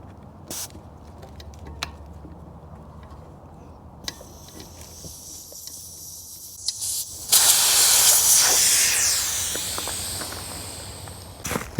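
Air hisses steadily out of the loosened valve stem of a KLR 650 front tube tire, starting partway through as a strong, close rush that slowly tapers, after quiet clicks and light handling noises.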